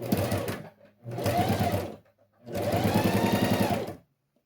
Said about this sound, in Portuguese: vamos fazer a costura de pesponto